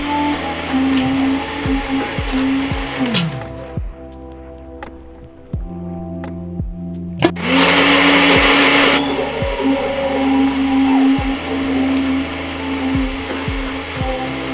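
A kitchen blender grinds a thick chutney for tandoori chicken tikka in a loud, steady whir, pulsing and labouring at times, dipping briefly and then surging back to a full roar.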